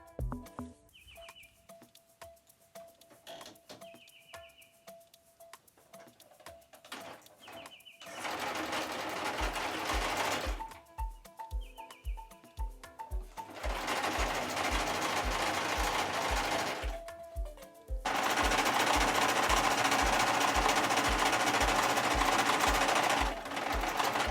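An electric sewing machine straight-stitches the side seams of a dress made from a golf T-shirt, with fast rhythmic needle clatter in several bursts and pauses, while birds chirp faintly in the background.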